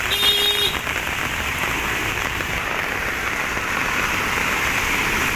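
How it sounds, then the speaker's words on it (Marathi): Heavy rain pours down steadily, a dense, continuous hiss of drops hitting surfaces nearby, with a brief tone at the start. "खूप पाऊस चालू आहे"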